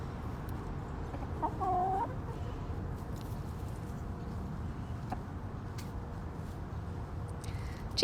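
A small backyard flock of six hens clucks softly on a rainy day, a brief louder cluck standing out over steady rain patter and low background noise.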